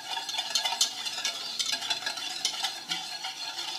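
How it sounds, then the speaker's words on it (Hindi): Sugar being stirred with margarine to melt it in a pan, with light, close scraping strokes and faint clinks in an uneven rhythm. "इसको अच्छी तरह मिक्स कर लेंगे"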